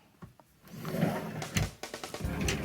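A mesh wardrobe drawer slides open with a soft rolling scrape, followed by a series of light rattling knocks near the end, close and quiet, with no talking.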